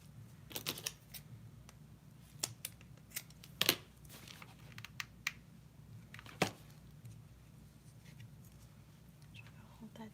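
Scissors snipping craft material while making Dollar Tree DIY ornaments: a handful of sharp, close, irregular cuts and clicks over a quiet room hum, with no talk.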